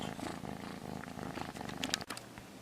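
A cat purrs softly and steadily up close in a quiet room, a low rhythmic rumble with a couple of faint clicks near the end.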